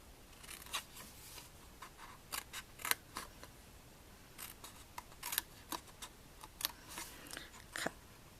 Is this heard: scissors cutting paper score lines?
yes